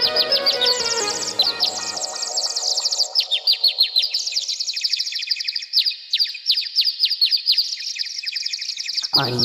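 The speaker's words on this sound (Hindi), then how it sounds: "इसी वक्त कुछ चिड़िया आकर वहां धान खाने लगे।" Small birds eating paddy rice in a field, chirping densely in rapid overlapping calls that are loud and close, heard alone for the whole stretch.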